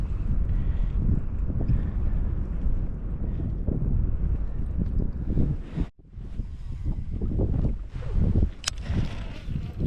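Wind rushes steadily across a lake while bass fishing from a boat, a dense low-heavy roar buffeting the microphone almost continuously, dropping out briefly midway before gusting back.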